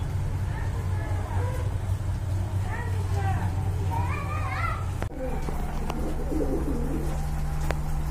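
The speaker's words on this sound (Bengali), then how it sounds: "এক জোড়া টেডি কবুতর রয়েছে এখানে" A pair of teddy pigeons coos in soft, repeated murmurs close by, with a steady low hum and faint background voices running throughout.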